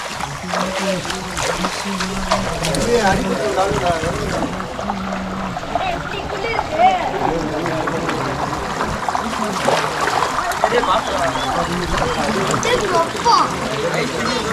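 Water splashing and trickling in a stream as people bathe, with children's voices and chatter mixed throughout, on the Velliangiri Hills.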